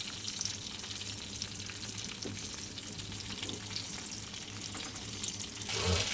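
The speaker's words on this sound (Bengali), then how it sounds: "মাছগুলো বেশ সুন্দরভাবে ভেজে নিয়ে এক পিঠ ভাজা হয়ে গেছে, এখন আর এক পিঠ ভেজে নিচ্ছি" Fish sizzles steadily in hot oil in a pan, a close, continuous crackling hiss, with a brief louder burst near the end as the pieces are turned.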